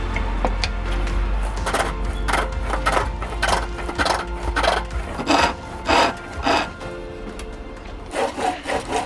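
A chisel scrapes and rasps against spinning wood on a lathe, coming in repeated bursts over a steady low motor hum.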